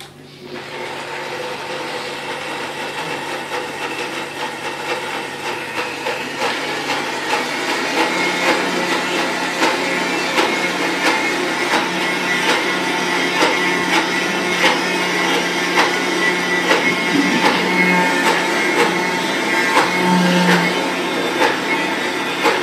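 A blender runs continuously on a small batch of cashews in an oversized jar, a loud steady whir with grinding texture that rises in intensity partway through and holds.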